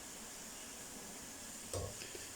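Onions slowly browning in a pan for palak gosht give off a faint, steady sizzle, with a brief louder stir or clatter near the end.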